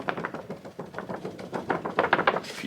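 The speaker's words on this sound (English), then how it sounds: "can hear the quality of that paper." Old, roughly 150-year-old paper family tree being handled close up: a faint run of dry crackles and soft taps that grow denser and crisper toward the end, with no talking.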